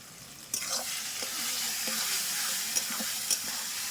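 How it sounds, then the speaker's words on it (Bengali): Chopped tomato and spices frying in oil for a Bengali chicken kosha, a continuous sizzle with occasional clinks and scrapes of a spatula stirring the pan. "এবার সব মশলাটাকে ভালোভাবে কষতে হবে"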